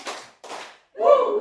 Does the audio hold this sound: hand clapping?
yes